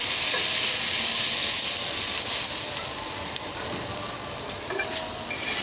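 Eggs frying in a pan with potatoes give off a steady, loud sizzle with soft stirring scrapes, continuous and close with no talk.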